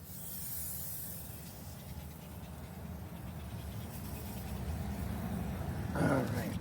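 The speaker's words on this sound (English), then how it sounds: "we're going to use the aerosol can." Super Clean degreaser sprays steadily from an aerosol can onto a car engine, a continuous close hiss lasting several seconds with a brief louder burst near the end.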